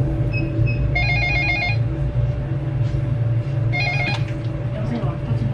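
A telephone rings at the counter of a Mom's Touch burger restaurant, two short bursts of trilling electronic bells over loud, busy kitchen and dining-room noise with voices.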